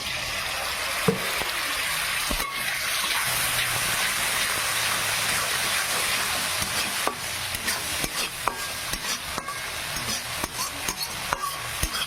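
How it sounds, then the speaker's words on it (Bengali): A little water is poured into spices frying in a pan for a rui fish curry, bringing a loud, steady hissing surge that settles into softer sizzling with scattered stirring scrapes. "তারপরে অল্প পানি দিয়ে দেবো"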